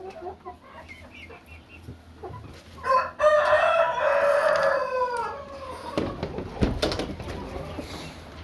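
A rooster crows loudly and clearly in a farm pen used for starting young chickens, with softer clucking from other hens before and after, close to the listener.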